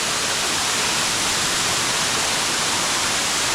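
Waterfall near Kozina in the Karst, a loud, constant broadband roar of falling water close by, unbroken for the whole stretch with no voices.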